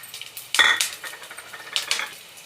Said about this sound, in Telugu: మినపప్పు వేయించుకోవాలి.